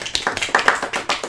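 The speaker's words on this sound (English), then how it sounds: "Golf claps ensue." A short run of light, sparse golf claps, about eight or nine soft, evenly spaced hand claps at close range with no voices.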